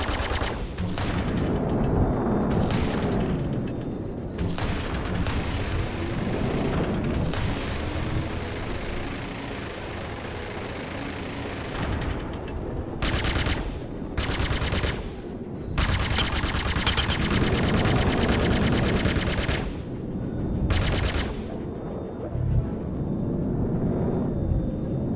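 Ship weapons in Star Citizen, firing ballistic and energy projectiles in loud rapid bursts, some long and continuous, with short pauses between volleys.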